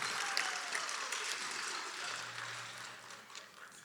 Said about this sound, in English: big round of applause for this group